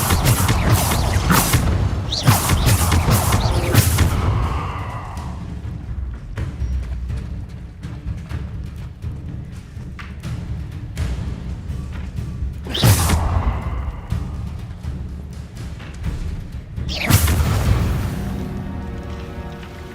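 Levioso spell effects cast in Hogwarts Legacy, with several loud bursts and whooshing thumps clustered early, then separate booming hits later between quieter stretches of game ambience.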